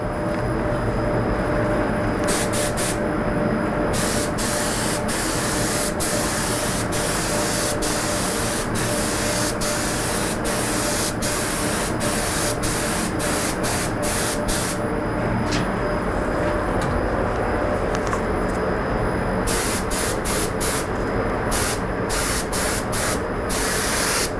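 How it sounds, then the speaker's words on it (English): A spray gun applies lacquer to a guitar body during finishing, giving a loud, continuous airy hiss that runs steadily for the whole stretch, with short bursts of brighter spitting texture, close and without any talk. "And I don't need to spray a lot of lacquer."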